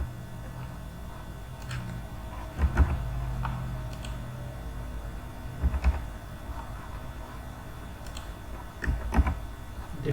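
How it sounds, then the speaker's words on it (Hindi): Values typed into spreadsheet cells on a computer keyboard, with quiet clustered keystrokes and a few louder bursts of rapid clacks spaced every few seconds, close and without talk. "डिफरेंट सेल्स का मैं टाइप कर रहा हूँ और डिफरेंट वैल्यू टाइप कर रहा हूँ।"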